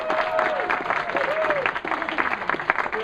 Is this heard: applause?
yes